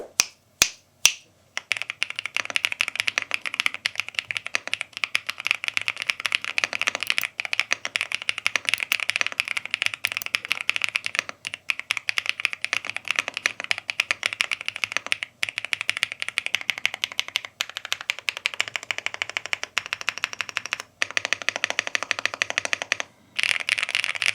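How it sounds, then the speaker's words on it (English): Continuous rapid typing on an SK71PRO mechanical keyboard, crisp close clicks in a dense, steady stream with a few brief pauses, no voices. "Just a proper mechanical keyboard sound with a proper structure"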